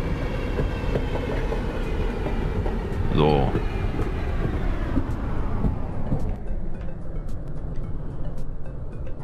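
Train running in Passenger Train Simulator, a steady rumble with a brief squeal and clatter partway through that then settles into a quieter roll, with someone talking briefly over it.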